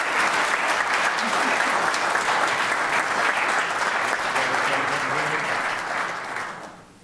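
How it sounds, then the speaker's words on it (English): Audience at a real estate event applauds award recipients, with steady, full clapping from a large crowd that gradually fades away at the close. "Give them a big round of applause."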